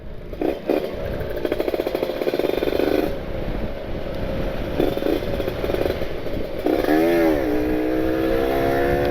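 A two-stroke RR motorcycle engine runs on a busy road test ride, loud and near, with a rasping buzz that rises and falls through repeated revs and one sweeping rev-up near the end.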